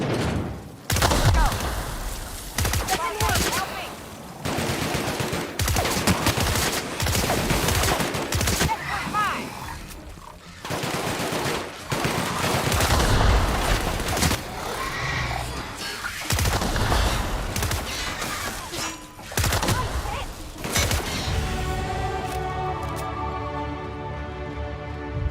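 Hip-fired gunfire in The Outer Worlds video game: repeated loud bursts of rapid shots in close succession, separated by brief pauses, with a musical tone ringing out at the end.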